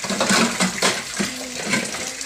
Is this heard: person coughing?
no